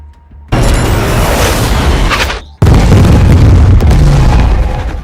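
Two loud booming blasts from a drone air strike in a war film, a couple of seconds apart, each a sudden roar that stays loud and rumbling before fading.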